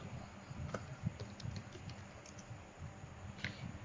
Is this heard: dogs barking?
no